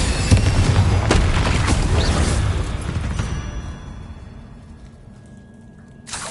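An Incendio fire spell cast in Hogwarts Legacy on PS5 lands as a loud, close burst and booming whoosh that rolls on for a few seconds and then fades, with a fresh swell right at the end and no voices.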